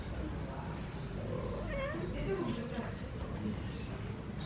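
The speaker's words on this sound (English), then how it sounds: "Cute kitten in the box." A kitten meows inside a cardboard box with its mother cat close by, the cries rising in short repeated calls over a steady low background noise.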